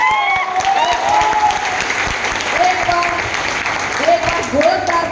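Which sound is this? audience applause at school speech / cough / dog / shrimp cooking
audience applause at school speech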